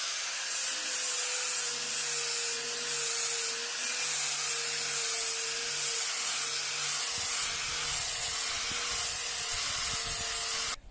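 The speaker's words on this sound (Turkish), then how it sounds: "Şimdi 4 tane demire zımpara yapacağım." Steady abrasive grinding hiss as four metal bars are sanded, running continuously, with a droning motor tone and intermittent rhythmic scraping underneath.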